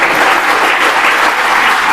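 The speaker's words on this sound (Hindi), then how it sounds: "हाँ बिल्कुल, ताली बजा सकते हो।" Students clap together in steady, dense applause before a school speech, poetry and dance competition, loud and continuous throughout with no voices over it.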